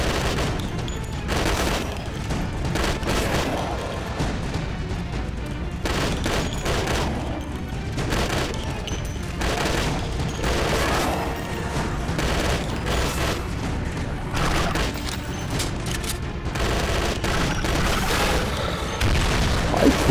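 Heavy gunfire in the video game Left To Survive: a sustained, dense barrage of loud shots and booms layered over each other for the whole stretch, with no talking.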